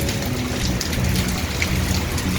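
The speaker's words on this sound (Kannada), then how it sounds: "ಮಳೆ ಸೈಕ್ಕಾಗಿ ಮಳೆ ಬರ್ತಾ ಇದೆ" Heavy stormy rain pours steadily in Mysuru, a dense continuous hiss of drops on surfaces with no pauses, loud and close.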